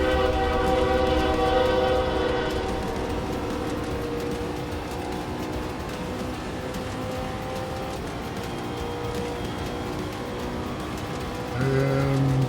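A train passes nearby with a steady rumbling roar, a horn blast sounding at the start and again near the end, heard alone without speech.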